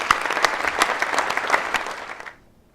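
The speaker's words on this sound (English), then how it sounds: "so we're here to hear from Kendra Prospero, so let's give her a warm welcome" An audience at an economic summit in Boulder claps warmly to welcome a speaker, a dense patter of many hands close by that fades out quickly after about two seconds.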